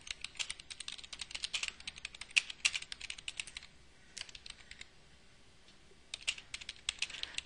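Rapid, fairly close typing on a computer keyboard while a forum reply is written, with dense bursts of key clicks, a short pause in the middle, then a final run of keystrokes.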